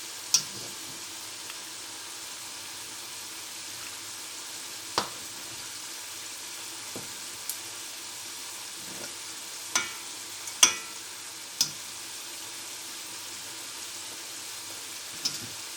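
Meat fries in a karahi with a steady, close, loud sizzle throughout, punctuated by sharp, irregular clinks and scrapes of a spatula stirring against the pan; no voices.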